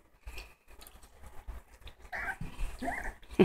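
A pet dog in a home gives a few short, close barks and whimpery yelps amid light pattering movement, with no one talking over them.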